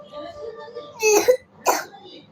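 A child coughs twice in short, harsh bursts, close by, after a faint stretch of background voices.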